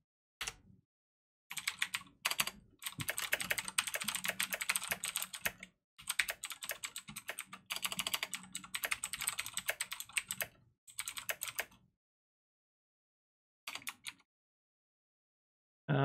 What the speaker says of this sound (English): I have a new keyboard, so that's why my typing is a little rough right now.